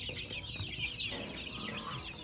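On a Thai farm, a flock of more than ten guinea fowl of two colors keeps up a continuous chorus of harsh, rhythmic calls. The calls are moderately near and steady, with no talk over them.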